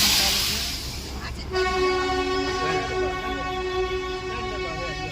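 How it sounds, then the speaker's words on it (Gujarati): A train on the Darjeeling hill line rumbles past a hilltop station and sounds a long, steady horn, the tones holding over the rolling rail noise. "જો આ જોઈ શકો છો ટ્રેન પણ ચાલે છે."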